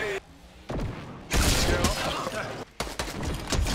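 Gunfire in a Fortnite match: dense bursts of rapid shots in loud stretches, broken by brief quiet gaps, with players' voices talking over the shooting.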